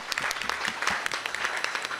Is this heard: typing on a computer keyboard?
no